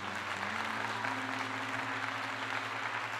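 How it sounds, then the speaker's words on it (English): Applause from a small audience, a steady even patter of clapping at moderate level with a low tonal hum underneath, no voices. "So a round of applause for that."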